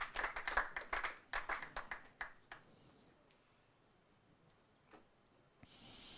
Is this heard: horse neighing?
no